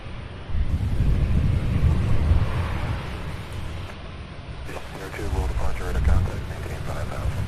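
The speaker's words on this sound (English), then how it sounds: "It's going to be a breezy one" Gusty wind buffets the microphone at an airport with a plane-spotting view, a steady low rumble that swells and eases across the whole stretch, while a faint voice comes through near the end.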